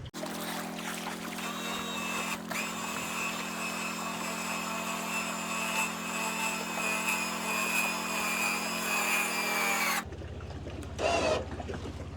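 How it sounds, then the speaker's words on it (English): Electric winch running with a steady, loud motor whine and buzzing harmonics for about ten seconds, then stopping abruptly, followed by a short burst of mechanical noise. "that's a good example of the benefits of a winch, electric winch"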